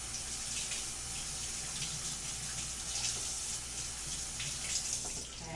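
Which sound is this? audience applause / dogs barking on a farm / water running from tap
water running from tap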